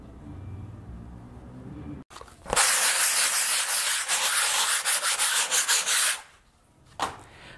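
Close, steady rasping of wet sandpaper polishing painted canvas, rubbed back and forth for several seconds in quick strokes, then stopping, with a short scrape after.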